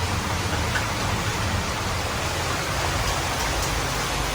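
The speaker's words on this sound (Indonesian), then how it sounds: "Aduh, kok hujan ya." Steady, dense rain hisses continuously, a loud even wash of falling water with no other sounds standing out.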